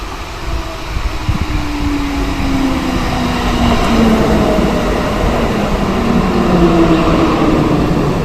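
A train in Cologne Bonn running with a loud, steady rumbling roar and a rising then falling whine of traction motors, close by and continuous.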